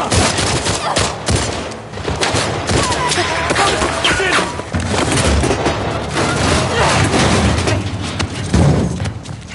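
Intense gunfire and booming blasts in The Last of Us Part II on PS5, dense overlapping shots and heavy thuds in a continuous loud barrage, with voices shouting in between.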